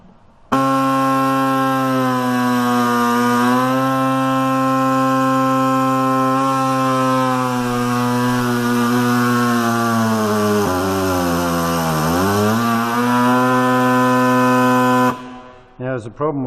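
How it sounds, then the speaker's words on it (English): A homemade broaching tool mounted on a lathe cuts steadily with a loud, sustained buzzing drone that dips in pitch near the end as it labours, then stops abruptly. "that's how it goes, and this is how it works"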